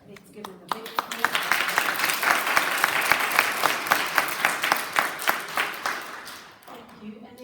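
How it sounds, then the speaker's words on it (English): Audience at a school celebratory assembly for the youngest grades clapping, a loud burst of applause that builds quickly, holds with distinct close hand claps, then tapers off as a voice resumes at the end. "Okay, let's give them a big clap."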